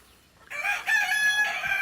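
High-quality chickens on a small homestead farm: a rooster crows loudly and close by, with clucking mixed in, and no talk over it.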